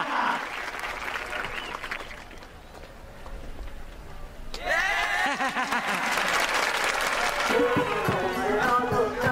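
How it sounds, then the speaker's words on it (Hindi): Applause and crowd noise swell, fade briefly, then return louder and busier, with voices and cheering mixed into the clapping. "तालियां बजाइए प्लीज, तालियां।"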